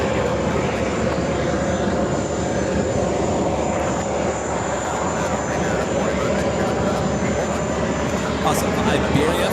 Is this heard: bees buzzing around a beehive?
no